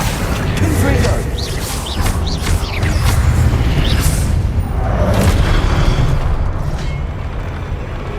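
Blasting-spell explosions in Hogwarts Legacy boom in a dense, continuous battle din, with heavy low rumble and bursts that blend into one another. A voice calls out spells throughout.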